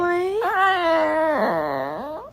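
A small chihuahua whimpers and howls in long, wavering, pitch-bending cries, close and loud, across a couple of seconds.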